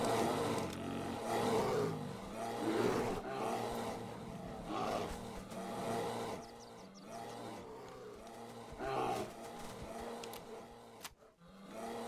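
Bears in DayZ give repeated low, growling roars in overlapping bursts, fairly loud and close. The roaring continues steadily across the clip, with a quieter gap near the end.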